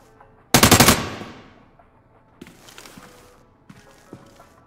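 A burst of rapid M4 rifle fire in America's Army, loud and close, with the last shot ringing off, followed by quieter scattered clicks and distant shots.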